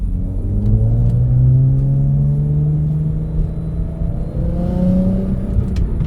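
A BMW E46 M3 engine revs up and down through a raspy exhaust, with rising and falling tones over a deep rumble, loud and close, heard from inside the car with no talk.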